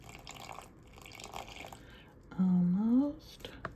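Bottled water poured into a bowl of sourdough mix of bread flour, a short splashing fill that rises in pitch for under a second, close and clear after a quiet stretch.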